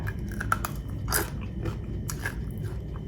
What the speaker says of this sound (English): I think y'all can hear that crunch.